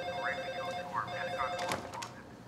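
A wall-mounted telephone rings with a warbling electronic trill in short repeated bursts, moderately faint under background noise.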